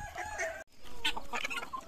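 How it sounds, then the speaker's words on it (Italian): Chickens in a backyard coop cluck and squawk as the door is opened, with a brief rooster-like call, close and moderately loud over a couple of seconds with a short pause in between. "Adesso andiamo ad aprire anche le galline."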